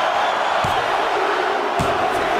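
Wrestling arena crowd at a TNA Hardcore Justice pay-per-view event, a dense, loud, continuous roar of voices chanting together with no pauses.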